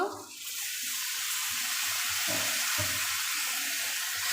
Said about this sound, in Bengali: একটু পানি অ্যাড করব